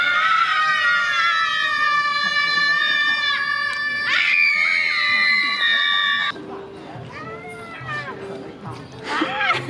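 A woman lets out a loud, high-pitched scream, rising and wavering, aimed at a noise level meter in a park in China; after it cuts off, voices talk in the background.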